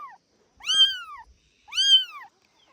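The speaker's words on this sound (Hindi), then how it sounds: "ये देखो दोस्तों, हमारे बैलों की छन्नी में 2 बिल्ली के बच्चे।" Kittens in a village cattle shed give two clear, high, drawn-out meows about a second apart, close and alone in quiet surroundings, after the tail of an earlier cry.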